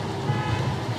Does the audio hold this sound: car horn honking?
yes